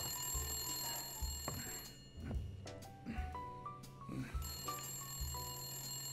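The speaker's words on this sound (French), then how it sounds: "Le téléphone, bordel." A telephone rings in the video game Blacksad: Under the Skin, repeated shrill bell bursts over a steady droning game background, with no voices.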